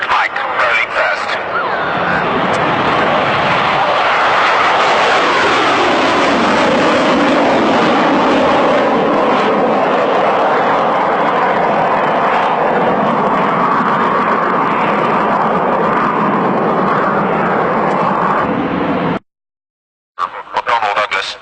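A black-painted McDonnell Douglas Phantom FG1 jet rolls overhead at the 1990 Leuchars airshow, a loud, sustained broadband roar lasting many seconds before cutting off abruptly, then briefly returning.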